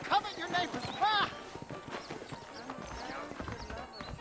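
Horse hooves clip-clop in Red Dead Redemption, a steady rhythmic walking beat under game dialogue, with harmonic voices talking over the first part.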